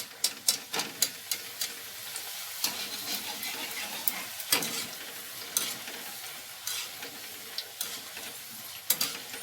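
Potato tikkis frying in hot oil while being stirred, a steady close sizzle broken by sharp scraping clicks from the stirring utensil at irregular intervals.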